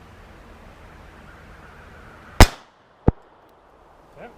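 A Beretta 950 BS Jetfire .25 auto pistol fires two sharp, close shots less than a second apart, each a sudden crack in an otherwise quiet outdoor setting.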